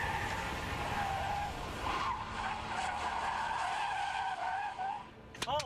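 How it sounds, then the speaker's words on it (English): Tires skid and squeal on a car driven in a driving-skills challenge, a long steady screech with engine noise running throughout, loud and close, ending in a few sharp chirps. "Oh, I smoked the tire."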